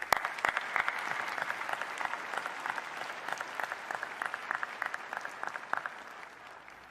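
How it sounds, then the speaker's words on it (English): Sustained applause from a large crowd at a university commencement ceremony honoring degree recipients, steady clapping with distinct sharp claps standing out, continuing at an even level throughout. "A round of applause for these recipients"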